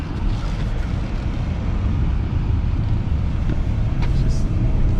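A 2017 BMW 540i, rear-wheel drive, pulls hard from inside the cabin, a steady broad engine and road roar with wind rush, continuous and loud throughout, with a voice speaking over it.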